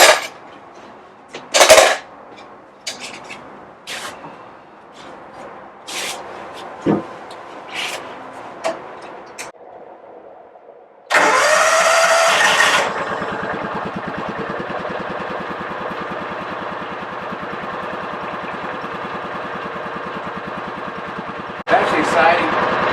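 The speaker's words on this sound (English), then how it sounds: "I'm just going to see if the thing will even crank right now." A John Deere Gator utility vehicle with a newly replaced ignition coil cranks, then its engine catches and settles into a steady running drone, after a stretch of clicks and handling noises near the microphone.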